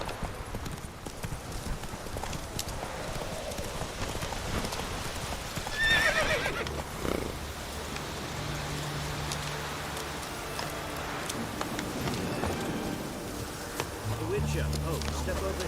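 A horse gallops in the video game The Witcher 3 on PS4. Its hooves clip-clop steadily under a noisy backdrop like rain, with a whinny, and someone talks over it.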